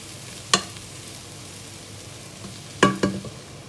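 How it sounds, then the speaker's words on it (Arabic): Washed, drained rice being turned in a pot with a metal spoon for an Iraqi rice-and-broad-bean dish: two or three scraping stirs with a faint sizzle underneath, close and without talk. "ننزل الجلاصين مال الروز بهذا الشكل ونقلبه، نقلب الروز"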